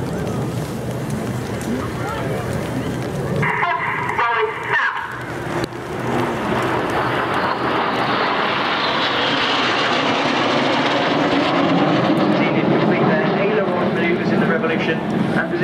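Red Arrows jets fly the Revolution manoeuvre at the Farnborough airshow, a broad steady jet roar that swells and holds loud throughout, with a commentator's voice over the top in the middle.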